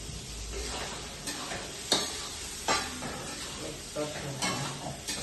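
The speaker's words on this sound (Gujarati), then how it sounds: "તો અહીંયા ટમેટા નાખીને ચડવા દઈએ" Tomatoes cooking in a pan with garlic, coriander-cumin powder and salt in a village home kitchen: a soft continuous sizzle broken by several scraping stirs of the spoon, heard up close.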